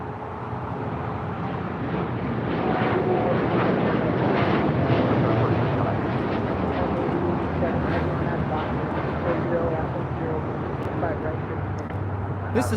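An Air Tahiti Nui Boeing 787-9 Dreamliner takes off at LAX with a steady, broad jet roar that swells slightly and holds, heard from a distance beneath people talking.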